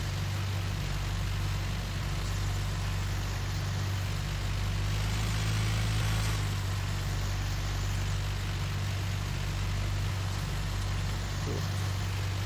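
An old, slow tractor engine chugs along in Farming Simulator 19, a steady low drone that holds at an even, fairly loud level throughout with no talking.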